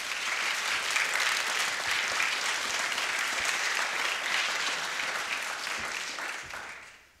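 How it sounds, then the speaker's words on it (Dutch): An audience gives a warm welcoming applause to author Robert Devriendt at a reading event, with thick, even clapping that holds steady before fading out at the end. "geeft u om te beginnen een warm en aanmoedigend applaus aan Robert de"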